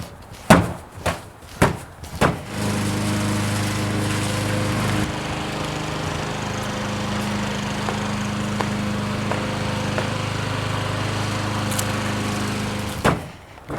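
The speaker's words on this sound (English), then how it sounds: "you put it in a pillowcase, now you hit it against the fence" A cloth pillowcase full of wheat struck against a fence for threshing gives a few sharp, separate thumps at the start, then a steady engine-like drone fills the rest of the clip.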